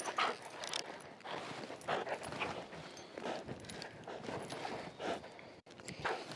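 A U.S. Air Force security forces police dog works through bite training, with scuffling, struggling movement and dog noises coming in close, uneven bursts.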